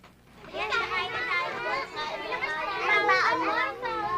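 Children playing at school recess, a dense crowd of young voices shouting and chattering together, loud and continuous with overlapping squeals.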